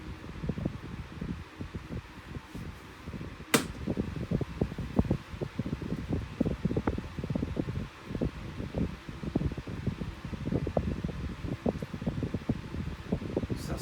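A Status 12-inch desk fan runs steadily at medium speed, its airy whoosh mixed with faint rustling and occasional light knocks, close to the listener.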